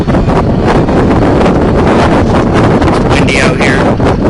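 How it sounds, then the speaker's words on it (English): Wind blows over a boat at about 12 knots out on the water during a harbour boat parade near coal docks, a loud steady rushing buffet against the microphone throughout. "It's windy out here."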